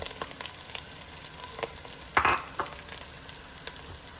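A generous handful of curry leaves sizzles in hot oil with a crisp, steady crackle, a louder spitting burst near the middle and scattered small pops and utensil ticks, close up and without voices.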